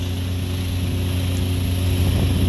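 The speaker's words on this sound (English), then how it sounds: "Got one of our VacTrons using as a power washer over here to clean the entrance real quick." A Vermeer VacTron vacuum excavator working as a power washer to clean an entrance drones with a steady, loud engine-and-pump roar, constant and near for the whole stretch with no talking.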